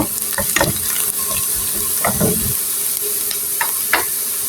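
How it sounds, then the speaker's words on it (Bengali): Onion and garlic frying in hot oil until brown, a steady broadband sizzle broken by several sharp bursts of stirring and scraping, close and moderately loud with no voices. "আগে ব্রাউন করে ভেজে নিই পেঁয়াজ রসুনগুলো"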